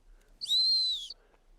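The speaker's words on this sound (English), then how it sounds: "I blow the sit whistle" A single sit whistle blown in dog training, one shrill, steady high tone lasting under a second, clear and close against a quiet background.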